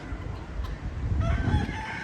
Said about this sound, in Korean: 닭이 많네. 닭이야?